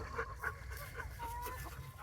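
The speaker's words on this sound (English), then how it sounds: "now it's time to feed the chickens" Chickens cluck at feeding time on a farm, a soft scatter of short clucks and calls, fairly quiet against low background noise.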